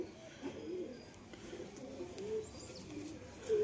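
White-eyed pigeons coo softly in a series of low, murmuring calls, faint and close, with little else around them.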